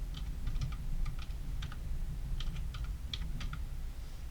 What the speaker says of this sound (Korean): 도큐멘트 클릭하시고 타이핑 하실게요.